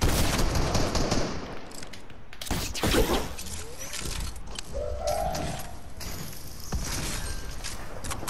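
Bursts of rapid gunfire crackle through a busy mix of Fortnite game sound, with a few sharp single shots and a faint voice underneath.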